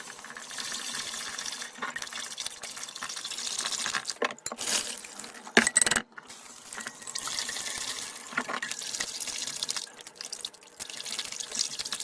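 Tap water runs steadily into a bowl as sushi rice is washed by hand, with splashing and brief interruptions, close and moderately loud.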